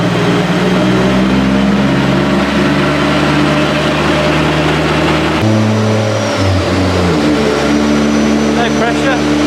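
A forged Nissan SR20DET engine runs loudly on a dyno, holding a steady droning pitch and then shifting in note partway through as the revs change, with a faint whine above it.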